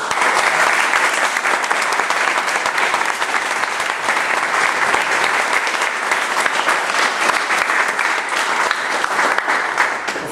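A high school crowd claps and applauds loudly and continuously, steady dense clapping with no break throughout.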